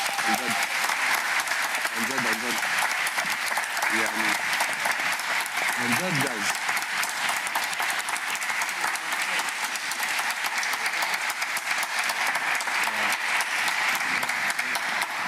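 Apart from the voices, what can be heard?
audience applause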